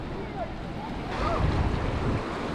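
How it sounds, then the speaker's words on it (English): Waves wash onto Scott's Beach near Fowler's Bay, a steady surf roar mixed with heavy wind buffeting the microphone, the breaking water swelling louder midway through. "Nice beach."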